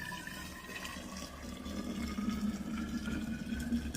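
Freshly boiled water poured from a saucepan gives a quiet, continuous trickling splash, faint and close, running steadily for about four seconds without speech.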